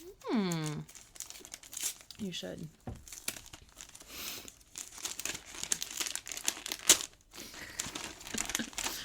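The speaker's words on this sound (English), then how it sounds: "I like the jungle wrapping paper" Gift wrapped in jungle-themed wrapping paper being torn open, with steady crinkling and rustling paper throughout, plus a few sharper tearing bursts, all beneath close, casual conversation.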